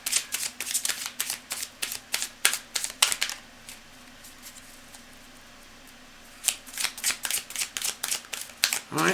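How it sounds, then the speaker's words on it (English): A deck of tarot cards being shuffled by hand in quick bursts of crisp riffling clicks, a run of roughly three seconds, then a short pause, then another burst. "I'm going to shuffle again."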